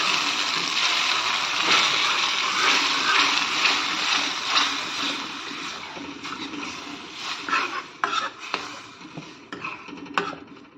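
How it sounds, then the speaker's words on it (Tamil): Water gushes and splashes steadily into a cooking pot of dhal, then tapers into intermittent trickles and drips toward the end. "தண்ணி கொஞ்சம் ஊற்றிப்போம்."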